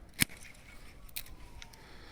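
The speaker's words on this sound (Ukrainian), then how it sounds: "Цю лозу обрізаю на дві бруньки" Pruning shears snip a grapevine cane in a single sharp, close click, followed by a fainter second snap a moment later in quiet outdoor surroundings.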